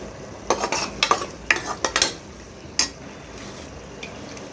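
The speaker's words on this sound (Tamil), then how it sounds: "மசாலா நல்லா வதங்கட்டும் இப்போது இந்த மசாலா நல்லா வதங்கிடுச்சு" Potato poori masala being sautéed in a pan, with a little water added: a steady low sizzle broken by a run of short scraping stirs and spoon clinks, close and moderately loud, no talking.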